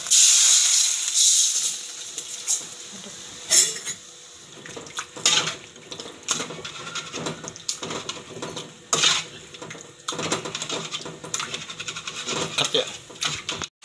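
Water is poured into a metal cooking pot ready for noodles, with a splashing stream under clattering pot and utensil knocks, loud and close, in several bursts over about fourteen seconds.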